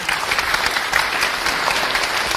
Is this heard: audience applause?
yes